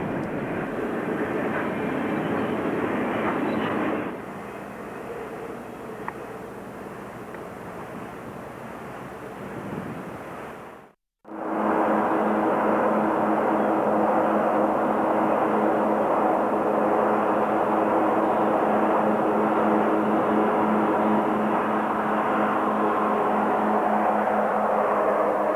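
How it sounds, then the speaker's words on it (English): Trailer-on-flatcar freight train on the Boston & Albany line rumbling past, a broad continuous roar that drops briefly to near silence and then resumes just as loud and steady. "This trailer train is headed to Boston, and many of the trailers are carrying mail from the West Coast."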